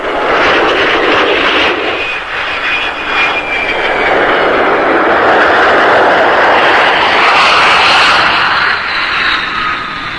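An F-100 jet aircraft flies overhead at a military air base during a joint exercise, a loud sustained roar with a shifting high whine that builds and sweeps past for several seconds, with no voices.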